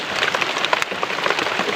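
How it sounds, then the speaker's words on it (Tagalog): Heavy rain pours down on a rural farm in a steady, dense hiss of drops. It stays loud and continuous throughout, with no pauses and no voices. "napakalakas po talaga ng ulan dito sa bukid guys."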